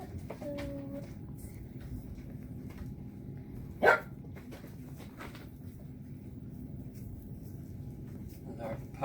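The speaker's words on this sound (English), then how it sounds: "There's our pup in the background getting a little jealous that nobody's paying any attention to him" A pet pup barks once, briefly and at a distance, in a home kitchen during pasta making, with faint background room noise around it.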